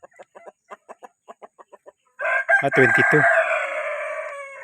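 Chickens and a rooster on a small farm with pigs: a series of short, evenly spaced clucks gives way to a loud, close rooster crow with overlapping clucking, while a voice speaks briefly.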